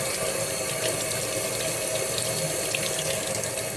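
Tap water pours steadily into a sink while aquarium plants are rinsed, a close, continuous splashing rush with no talking.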